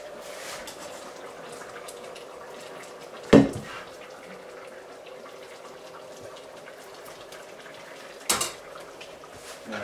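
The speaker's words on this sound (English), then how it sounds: "I'm going to grab a plate. We're going to put a little bit of rice on it" A spoon clinks sharply against a plate twice, several seconds apart, while rice is served after a Brazilian spicy fish stew has been cooked; a low kitchen hum fills the gaps between the clicks.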